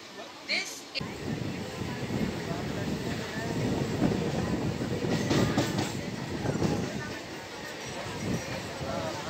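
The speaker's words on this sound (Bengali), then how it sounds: "তালপুর থেকে ট্রেন ছেড়ে দিল।" A Tarakeswar–Goghat local train pulls out of Talpur station, its steady rumble and rattle building and holding fairly close, with people talking faintly nearby.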